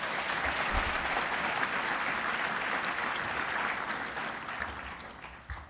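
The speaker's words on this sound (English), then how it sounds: "give a huge round of applause again to those supporters" Sustained applause from a large audience at a medical school convocation, steady and full, tapering slightly near the end.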